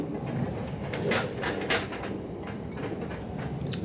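Interior of a moving passenger train, a steady low rumble of the carriage with faint rattles and soft clicks, continuous and fairly quiet throughout.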